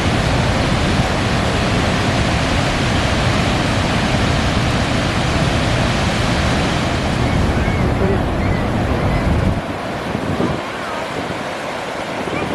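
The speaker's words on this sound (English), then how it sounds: "Like, I can see the water rushing." Heavy roaring water at a large waterfall, a dense, steady wash of noise with wind buffeting the microphone, which drops off abruptly near the end.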